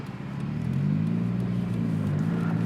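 A turbocharged NB Mazda Miata engine pulls in second gear, a loud steady droning rumble whose pitch climbs gradually as revs rise toward the limiter, heard up close with no talking.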